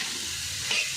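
Spiced greens (shak) stir-fried in a pan with a steady sizzle, a brief scrape of stirring near the end, alone with no talk.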